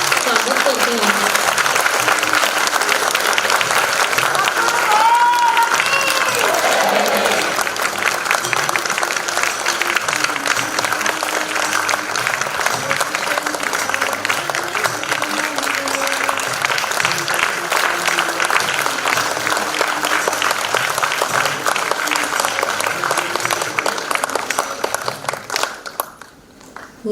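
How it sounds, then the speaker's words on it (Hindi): Sustained, dense applause from a large audience welcoming Swami ji at the Chaitanya Mohatsav 2024 gathering in Singapore, steady and loud for most of the stretch before tapering off at the end, with some crowd murmur mixed in. "जोरदार तालियों के साथ हम स्वामी जी का स्वागत करते हैं"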